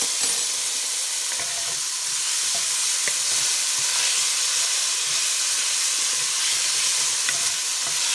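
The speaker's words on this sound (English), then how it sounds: "what I'm going to do with these is I'm going to caramelize them" Food is caramelizing in a pot for pot roast, giving a loud, continuous sizzling hiss with a few faint stirring clicks. It runs steadily throughout with no voices.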